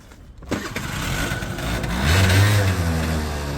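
A Honda Dio scooter engine starts up after a brief quiet moment, then runs with a steady putter that swells slightly louder before settling.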